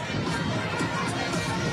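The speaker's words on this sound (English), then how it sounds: "you can hear the cheering on the background" Fans in the stands in front of the finish line at a national primary school track and field championship, a steady wash of crowd cheering and chatter with no distinct individual shouts.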